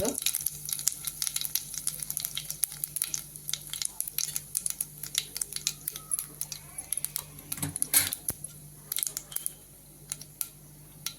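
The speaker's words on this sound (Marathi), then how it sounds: "याला तेल टाकलेलं आहे आपण सारी मोहरी टाकू" Mustard seeds popping in hot oil for a spicy bell pepper bharit, a rapid, irregular stream of sharp crackles and pops over a faint steady hiss, close and continuous.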